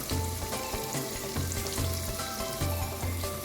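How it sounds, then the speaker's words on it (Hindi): Onion fries loudly in hot oil for a minced meat and bitter gourd dish, giving a dense, close, continuous sizzle with rhythmic bursts of stirring and no talking. "ऑयल थोड़ा सा गर्म हो जाए, प्याज ऐड करें"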